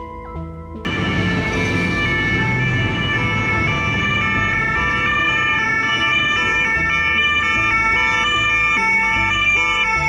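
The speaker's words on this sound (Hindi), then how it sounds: "यहाँ पर एम्बुलेंस के आगे और पीछे बाइक्स पर पुलिस साथ साथ चलती है" Loud ambulance siren in France, its wailing tone sustained and close after a brief quieter opening, with a motor vehicle passing under it; police on motorbikes escort it.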